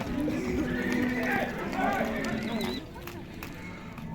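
At an outdoor horse market, a horse gives a loud, close, drawn-out whinny lasting about two seconds, with hoof clops and people talking around it.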